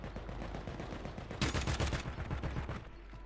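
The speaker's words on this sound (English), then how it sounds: "what are you shooting at?" Gunfire in the Call of Duty Warzone video game: a dense burst of automatic shots breaks out midway and rattles on for over a second, loud over a steady background bed of game ambience, with no talk.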